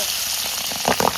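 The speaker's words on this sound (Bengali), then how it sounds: "এবার মাছগুলোকে ভেজে নেব, সাবধান হয়ে যাও।" Pabda fish frying in hot oil in a karahi (wok), a steady close sizzle that breaks into a few louder spitting crackles toward the end.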